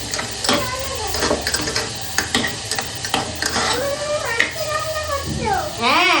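Khichuri stirred in a pan, a spoon scraping and clacking in repeated irregular strokes over a steady close sizzle, with a voice rising and falling through it.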